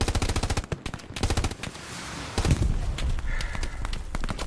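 Rapid machine-gun bursts and single rifle shots from a Hell Let Loose 18v18 online match, loud and close, firing in quick rhythmic strings with short gaps and no talking.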